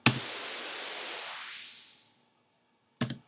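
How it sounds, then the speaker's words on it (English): A white noise build effect made in Ableton Live, a bright hiss that opens full-band then thins and fades over about two seconds, followed by a brief silence and a short loud burst of noise at the end. "Nice smooth white noise effect that can be used in any transition in any of your original tracks"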